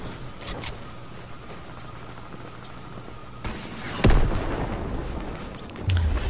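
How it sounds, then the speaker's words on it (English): A sudden explosion booms through a first-person shooter match, a sharp burst with a low rumbling tail that lingers, followed moments later by a second, smaller thump. Background game noise continues without talk. "Somebody just got exploded."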